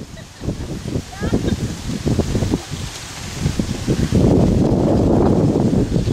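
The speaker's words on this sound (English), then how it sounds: "It is windy down here." Strong wind gusts across the microphone outdoors in the Philippines, a loud rushing roar that swells toward the end while someone talks over it.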